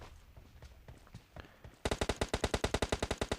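Rapid automatic gunfire in PUBG Mobile Lite, preceded by softer scattered shots and footsteps, then a fast regular burst of loud, close shots lasting over a second.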